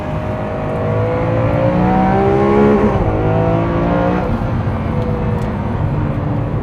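A Lamborghini Aventador SV under hard braking from speed, a loud steady engine roar with falling pitch sweeps as the car sheds speed, close and continuous without talk.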